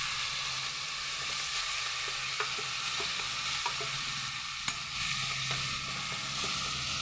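Dried shrimp sizzling in hot tempering oil, a steady dense crackle and hiss close by with a few sharp clicks and pops, no voices.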